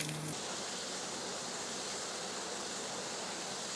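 Steady, loud broadband rush of a waterfall in the bush, continuous and close throughout with no voices, a faint tonal blip only at the very start.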